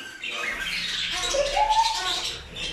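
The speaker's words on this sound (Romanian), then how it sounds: "am auzit papagali și ne-am întors înapoi" Parrots in a pet shop give rising squawks and chirps, fairly close and steady, with other bird calls mixed in and no clear talk.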